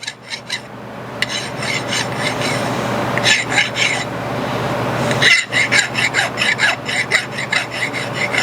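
A metal part for a 9-cylinder radial engine is deburred by hand with rhythmic rasping strokes. Bursts of filing come in quick series with short pauses between them, and the sound is close and fairly loud.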